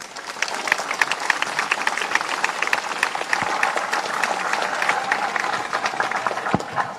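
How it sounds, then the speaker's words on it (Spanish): Dense, steady applause from a large crowd at an FMLN political rally commemorating the 1989 offensive in El Salvador, loud and continuous throughout with no speech over it. "¡Que se escuchen esos aplausos!"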